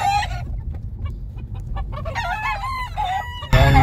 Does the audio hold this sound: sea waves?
no